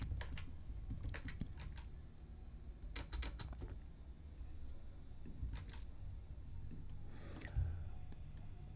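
Someone types on a computer keyboard in irregular bursts of soft, close key clicks, with brief pauses between runs of keystrokes.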